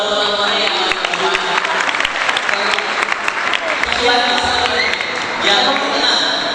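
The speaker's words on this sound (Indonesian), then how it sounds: "Boleh tepuk tangan kan buat teman-teman yang maju ke depan" Students on a school study tour from SMK Ulumuddin Susukan clap for classmates who stepped to the front, a sustained crowd applause of many hands, loud and continuous, with voices mixed in.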